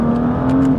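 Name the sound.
engine revving as throttle is squeezed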